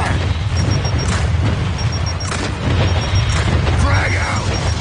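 A frag grenade detonation in Gears 5 Horde mode, a dense, loud, rumbling boom among constant low battle noise, with game voices calling out over it.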